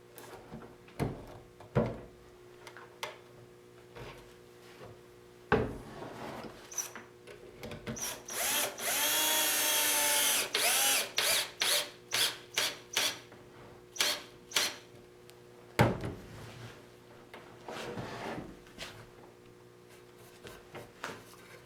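A power drill drives a 3-inch screw into an antique wooden table in a woodworking shop, with a few short bursts followed by a longer sustained whir, then more brief trigger pulses and some clunks of handling.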